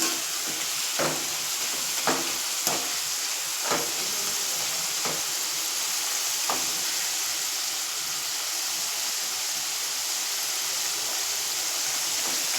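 Homemade potato finger chips fry in hot oil over high heat, a loud steady sizzle and hiss throughout, with several sharp scraping taps as the chips are stirred in the first half.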